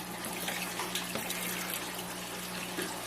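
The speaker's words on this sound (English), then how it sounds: "the water comes up the nutrient tank, flows into those drip irrigation lines" Water runs steadily through a nutrient film technique hydroponic system fed from a nutrient tank through drip irrigation lines, a constant trickling wash with a low pump hum underneath and no talking.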